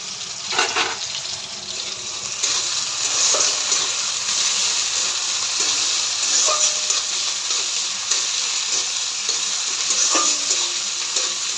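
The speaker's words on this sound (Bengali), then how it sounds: "এটা ভাজা হলে তারপরে চিকেনটা দিয়ে দেবো।" Marinated onion, ginger, garlic and green chilli frying in a little oil for biryani, a loud, dense sizzle with scattered clicks of stirring, close and steady throughout.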